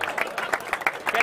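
Brief clapping from guests at an amateur football awards gala, a short patter of hands with a voice over it, modest in level.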